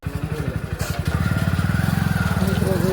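A motorcycle engine chugs close by in a steady, rapid idle pulse while the bike is being parked, with a voice talking briefly over it.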